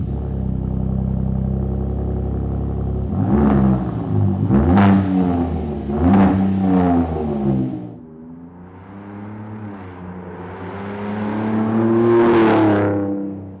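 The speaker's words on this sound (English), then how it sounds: "It sounds a lot better than the factory exhaust. It's a lot more aggressive." Ford F-150 Raptor fitted with an MBRP Black Series 3-inch stainless cat-back exhaust with 5-inch tips, revving: a steady idle rumble, then three sharp throttle blips and a longer swelling rev, close and loud.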